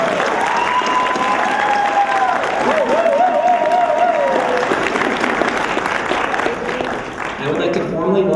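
A crowd gives sustained applause to graduates and award recipients at an adult education commencement ceremony, dense clapping under a loud voice talking over it throughout, easing slightly near the end.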